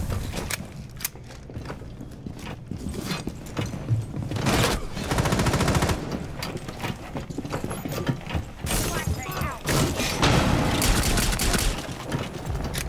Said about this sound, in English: I shot fucking Lesion in the back